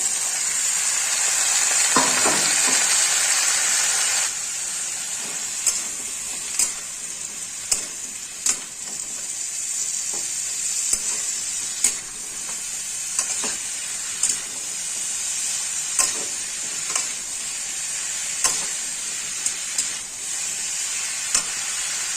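Jackfruit pieces fry loudly in a hot pan, a strong sizzle at first that settles into steady frying, with regular scraping strokes of a spatula stirring them throughout and no talking.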